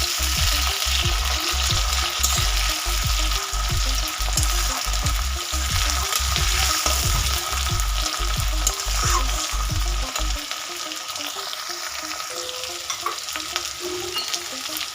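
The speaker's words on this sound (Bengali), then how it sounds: "টমেটো দিয়ে দেব।" Tomatoes added to well-fried onions sizzle in a pan for fish curry, with regular stirring scrapes in a steady rhythm that stop partway, leaving a softer sizzle alone.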